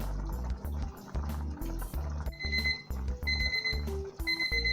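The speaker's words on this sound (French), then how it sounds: "le chronomètre sonne, on va l'arrêter et on va goûter aux pâtes" A kitchen timer rings in repeated high electronic beeps while pasta boils in a pot on the stove, bubbling water churning loudly beneath the alarm, with no talk.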